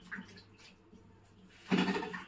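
Tap water rushes on partway through, loud and close, while vegetables are washed in a home kitchen after a stretch of quieter background sounds.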